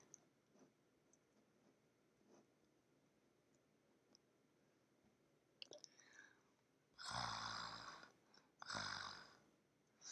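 Someone imitates snoring during a Roblox story game: two loud, breathy snore-like bursts near the end, each about a second long, following quiet background with faint clicks and ticks.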